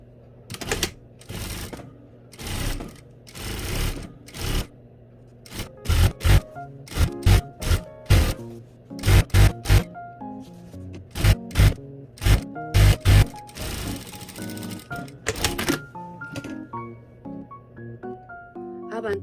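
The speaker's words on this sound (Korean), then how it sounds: "안단 양쪽 테두리 끝부분 위에서부터 아래까지 쭉 박음질 해주시고요" A sewing machine runs in bursts, stitching down both facing edges of a tailored jacket from top to bottom, loud close whirring runs separated by pauses, with a person talking in between.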